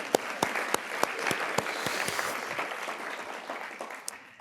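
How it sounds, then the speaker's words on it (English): Audience applause at a university sustainability awards ceremony, steady and moderately close, with a few sharper individual claps punctuating the dense clapping throughout. "So we are going to give him a round of applause because he's doing amazing work."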